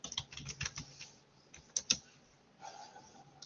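Fingers typing on a computer keyboard in quick uneven bursts of close clicks, a short pause, then a few more keystrokes, with no talking.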